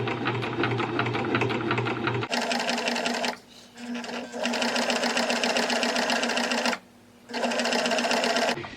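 A sewing machine stitches fabric, a close rapid mechanical whirring run in long bursts with two short pauses as the stitching stops and restarts.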